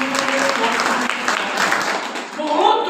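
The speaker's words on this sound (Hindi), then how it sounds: "इनके लिए ताली बजा दो आप।" Audience applause during a church service, steady dense clapping that fills the room, loud and continuous throughout, with a voice audible beneath it.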